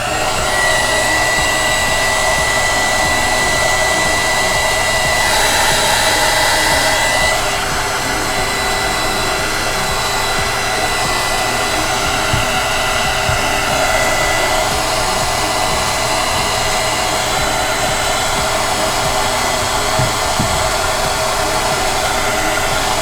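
A hair dryer blows continuously and loudly for over twenty seconds, drying a first coat of glue on a scrapbook-paper tumbler, a close, steady whooshing roar with a brief shift in tone near the start.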